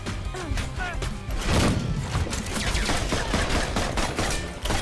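Rifle gunfire from the co-op action game Full Metal Furies, a continuous loud barrage of rapid shots and impacts with thumping hits and light talk mixed underneath.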